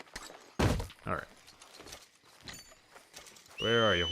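Hoofbeats of a horse draw near in Red Dead Redemption 2, thudding steps among pauses, ending with a loud snort or whinny close by.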